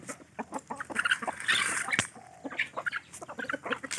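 Fighting roosters and hens cluck in a rapid, uneven series of short calls at a morning feeding on a home farm, close and fairly loud, with one louder burst partway through.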